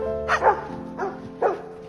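Dogs bark near wild bison in the Caucasus, one in three short, sharp bursts spaced about half a second apart, fairly close and loud.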